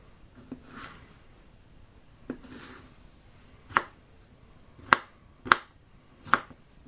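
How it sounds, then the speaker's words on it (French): A knife chops cornichon pickles on a board: a few soft cuts first, then four crisp, sharp chops spaced about a second apart, close by and alone without talk. "Je vais découper mes cornichons."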